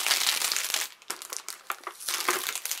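Wrapping paper crumpled and torn while an advent calendar gift is unwrapped, heard as close, dense crinkling and rustling with sharper crackles, loud at first, then in broken bursts.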